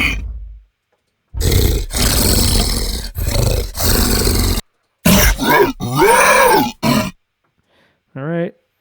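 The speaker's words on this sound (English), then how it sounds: "Let's hear the alerted gorilla sounds" Alerted gorilla calls from a creature sound effects library: a series of loud, close roars, grunts and guttural bellows in separate bursts, some rising and falling in pitch, ending with a short throaty call after a pause.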